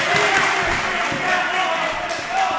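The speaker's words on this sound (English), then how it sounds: "The crowd is appreciative of that jiu-jitsu." Arena crowd at a jiu-jitsu grappling match giving a sustained burst of applause and murmuring, steady and fairly loud throughout.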